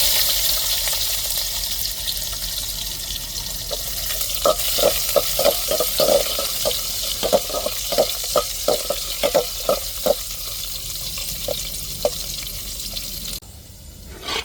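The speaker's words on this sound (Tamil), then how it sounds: "நறுக்கின வெங்காயத்தை தாளிப்புக்கு சேர்த்துக்கிடுவோம்." Chopped onion sizzles in hot oil with mustard seeds and urad dal as tempering for a fish curry, a steady frying hiss broken by a run of regular scraping stirs from a spoon in the pan.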